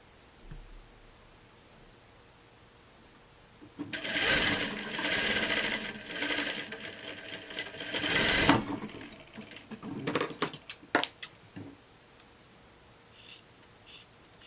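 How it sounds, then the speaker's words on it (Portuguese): A sewing machine stitches a bell-shaped sleeve on a blouse, first in one sustained close run of rapid stitching, then in several short, choppy bursts with quiet handling between. "costurar reto e fazer acabamento por aqui mesmo"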